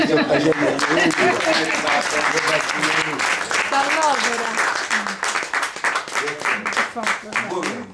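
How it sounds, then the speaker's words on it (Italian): Audience applause at an Italian award ceremony, a steady wash of clapping that runs under someone speaking over a microphone throughout. "però un applauso"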